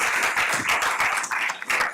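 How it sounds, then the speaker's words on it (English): Steady, dense applause from the crowd at a school district board meeting honouring award recipients, loud and continuous throughout with no voices over it. "And a round of applause for all of our awards"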